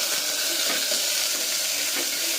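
Cumin, mustard seeds and curry leaves sizzling in hot mustard oil in a pan for a Maharashtrian sambar, a steady close hissing crackle with no talk.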